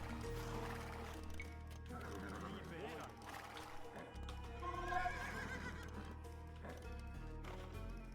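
Knights on horseback in the real-time strategy game Age of Empires 2, with a horse neighing and whinnying over clip-clopping hooves and a steady low game backdrop, mixed with quieter in-game effects.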